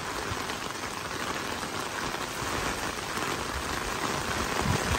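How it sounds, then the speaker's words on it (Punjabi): Heavy rain pours down in Ropar, a dense, steady hiss of drops striking the ground and surfaces, loud and unbroken with water running along the street. "ਤੁਸੀਂ ਦੇਖ ਲਿਆ ਰੋਪੜ ਕਿੰਨਾ ਮੀਂਹ"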